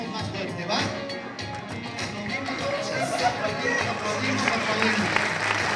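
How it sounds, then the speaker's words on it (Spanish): A conference audience claps along, following instructions to clap louder while rising from a crouch, with steady rhythmic applause building gradually under music and crowd noise. "aplaudimos más fuerte"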